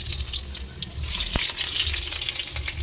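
Pieces of pointed gourd (potol) frying in hot oil give a steady close sizzle and crackle, with a single sharp clink partway through and no talk.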